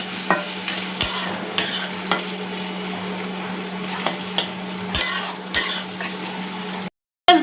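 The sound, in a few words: frying chopped onions in a pan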